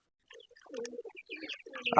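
Pigeons in a pigeon house give a few soft, close coos and low murmurs over about two seconds, quiet and unaccompanied by talk.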